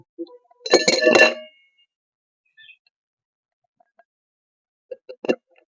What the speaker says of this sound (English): take a shaker glass and you have to add ice cube.